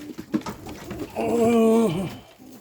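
A single low, sustained coo from a racing pigeon with a wavering, moaning tone, fairly close, following a few scattered soft clicks and rustles.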